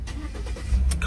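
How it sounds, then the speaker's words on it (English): A car's ignition turned and the engine starting, a short cranking rumble settling into a low running hum, close by with no voices. "car ignition"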